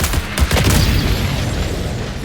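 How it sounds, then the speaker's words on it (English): Rapid gunfire from the B-77 weapon in the video game Marathon, a loud, dense burst of booming shots that rolls on continuously for about two seconds with no talk over it. "The gun noise is coming from me."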